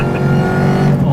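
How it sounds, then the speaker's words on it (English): A supercharged car, its blower winding up, downshifts and accelerates hard, a loud, close engine roar sustained throughout the brief moment. "Fucking like winding that blower up and punching it."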